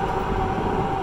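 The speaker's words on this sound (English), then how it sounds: "I'm supposed to be on that train right there" A train passing at a station makes a steady, loud rumble with a continuous hum, heard alone without talking.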